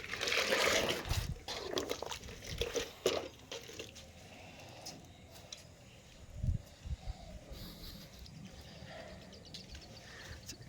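Water poured onto the base of a cherry tree in a rooftop garden, with fermented flower water trickling and splashing into the soil in uneven bursts, fairly quiet, with faint birds in the background.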